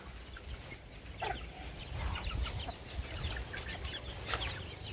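Farmyard chickens clucking at close range as they are called in to feed, a steady scatter of short clucks with ambient outdoor noise and no talking.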